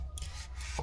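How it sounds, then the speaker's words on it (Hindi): Brief close rubbing strokes of someone scrubbing a dirty, blackened fridge, with a couple of short scraping sweeps over a low hum. "मैं अभी साफ़ कर रही हूँ फ्रिज, जो कि काफ़ी गंदा हो गया है"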